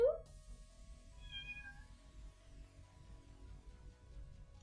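A hungry domestic cat meows once near the start, close and clear, then the sound settles into quiet room noise with a faint low hum.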